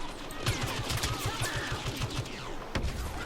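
Rapid blaster fire in the Star Wars Battlefront video game: dense, steady bursts of shots with a low rhythmic thud, loud and continuous amid battle noise, with no talk.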